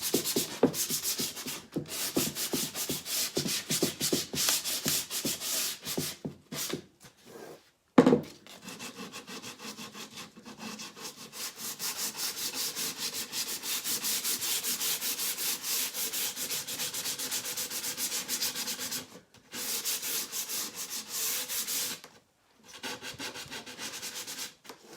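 Sandpaper rubbing along the edges and corners of a wooden piece to give it a worn vintage look, close and steady with rapid back-and-forth scratchy strokes, a few brief pauses and one sharp knock partway through, no talking.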